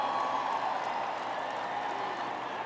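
Audience applause at a Global Citizen Festival event for the Motsepe Foundation: continuous, even clapping from a crowd, fairly loud and steady with no pauses, with no clear voices above it.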